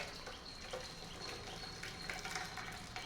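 Water draining from cooked drumstick leaves and lentils, a soft continuous splashing and trickling close by, steady at a moderate level with no talk.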